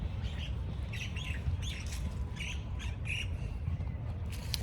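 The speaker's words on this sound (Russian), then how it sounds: "Птички поют, слышите?" Birds chirp and squawk outdoors on a sunny Tashkent morning, a series of short, faint calls over a steady low background rumble.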